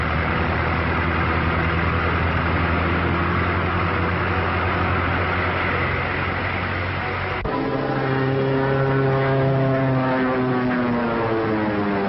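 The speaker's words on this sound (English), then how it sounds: "Biplane, two-seater, eh?" A two-seater biplane's propeller engine drones loudly and steadily throughout, with the pitch shifting partway through as the engine note changes, recorded in 1939 with no voices.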